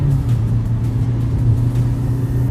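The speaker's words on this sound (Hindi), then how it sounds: "मैंने पूरा थ्रॉटल दिया हुआ है, पूरा फ्लोर किया हुआ है मैंने।" Kia Seltos or Honda Elevate SUV at full throttle in a drag race, a loud, steady low engine drone with a slightly wavering pitch, close up and with no one talking.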